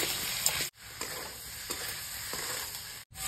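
Spices with tomato, turmeric and coriander powder fry in oil in a pan, giving a steady close sizzle with soft stirring scrapes and two brief gaps of silence.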